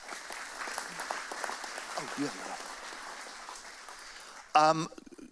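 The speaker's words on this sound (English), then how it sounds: "that deserves a round of applause" Applause from a veterans' breakfast gathering honoring an Air Force veteran, a steady patter of clapping across the room with scattered voices underneath, ending in a brief louder burst of speech.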